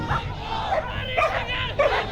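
A trained BSF dog barks in short yips during a crowd-control demonstration, several sharp barks a few beats apart against a murmuring crowd and background voices.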